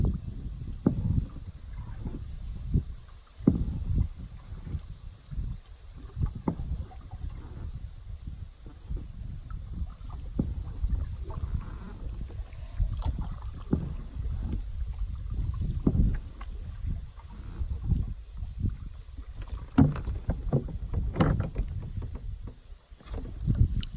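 A kayak is paddled across open water, with soft repeated dips and splashes in an irregular rhythm, close by and quiet, under light wind noise.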